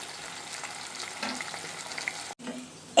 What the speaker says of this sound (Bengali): একদম লো হিটে এপিট ওপিট করে ভালো করে কড়া করে ভেজে নিতে হবে